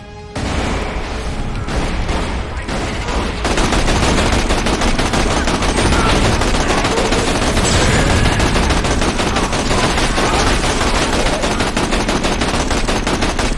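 Rapid, sustained automatic gunfire from the video game Borderlands: The Pre-Sequel, loud and dense, with sporadic shots at first and then an unbroken rattling barrage of bursts and booms, no talk over it.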